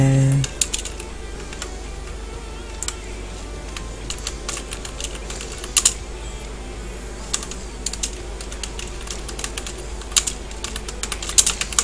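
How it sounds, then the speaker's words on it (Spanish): Computer keyboard typing in a quiet room, irregular bursts of clicky keystrokes with short pauses, fairly close and moderately loud. "Se escucha como tecleo."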